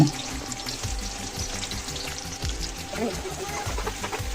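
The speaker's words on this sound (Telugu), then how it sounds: "ఇప్పుడు నేను నూనె వేస్తానండి అంటే ఫ్రైడ్ ఆనియన్స్ వేపాలి కదండి వేపేస్తున్నానండి" Sliced onions fry in hot oil for chicken biryani, a steady close-up sizzle and crackle with broadband hiss that runs continuously throughout, with faint stirring bumps underneath.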